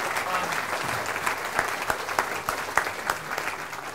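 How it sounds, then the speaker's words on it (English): Audience applause at the closing session of the BSDCan 2015 conference: a room full of people clapping, a dense steady roar of claps with sharper individual slaps standing out, sustained throughout. "A big round of applause for Dan"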